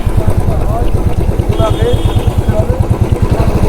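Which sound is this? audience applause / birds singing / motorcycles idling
motorcycles idling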